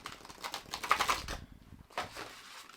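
A large deck of cards is riffle-shuffled up close, giving a rapid burst of dense clicking and fluttering that stops briefly and then starts again more softly.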